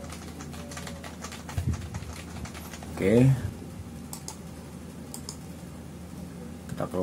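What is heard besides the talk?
typing on a MacBook Pro M2 keyboard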